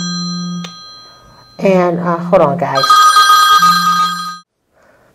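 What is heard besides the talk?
mobile phone ringing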